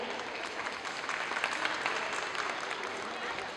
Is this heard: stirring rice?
no